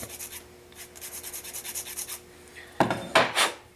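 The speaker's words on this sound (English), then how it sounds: "It just needs to be sanded a little bit more." A small wooden part for a model freight warehouse is sanded by hand, with a run of quick, light rubbing strokes followed by two louder, closer scraping passes near the end.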